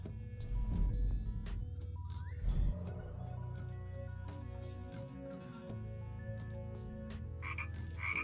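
Frogs croak repeatedly in GTA Online, a chorus of close, rhythmic ribbits over a low game background with occasional clicks and no voices.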